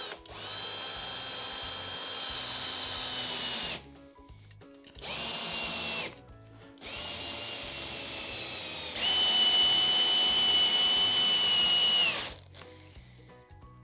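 An electric screwdriver drives a screw in several bursts of a high, whining motor, each starting and stopping abruptly, close and fairly loud, with short silent gaps between runs.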